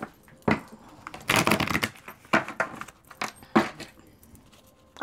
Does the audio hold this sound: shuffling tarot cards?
yes